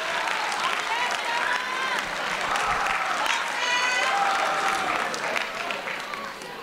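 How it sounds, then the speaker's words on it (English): A school assembly crowd applauds a student called up front, dense steady clapping with cheers and whoops layered over it, loud and sustained throughout. "Can we give Sarah a round of applause"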